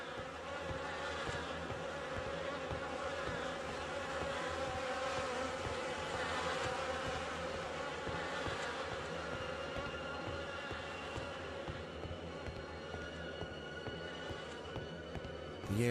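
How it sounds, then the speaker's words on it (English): Swarms of insects, mosquitoes, buzz in The Fidelio Incident, a video game set in a rotting place on a mountainside: a steady, dense, droning hum that fills the whole stretch without a break. "The air is heavy with the stink of rot and the buzzing of those damned insects."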